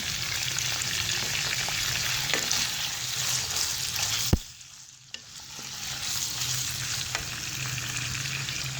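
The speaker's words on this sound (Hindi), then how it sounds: "अब हम इसके अंदर हरी मिर्च ऐड कर देंगे।" Chicken sizzles loudly in a pan with green chillies going in, a steady close frying hiss broken by a sharp clink, a brief dip as stirring pauses, then the sizzle picks back up.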